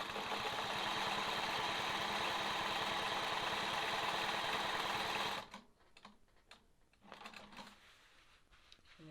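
A sewing machine quilts a sawtooth star block in a fast, steady mechanical whir for about five seconds, then stops, followed by a few soft clicks and handling noises.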